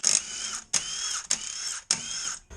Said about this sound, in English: I now need to take off the rear wheels